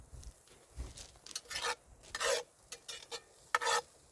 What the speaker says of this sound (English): Now what I'm doing is just browning the onions.